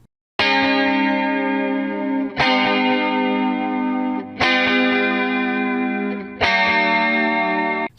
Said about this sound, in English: See how the attacks are now much softer and the reverb became much more prominent?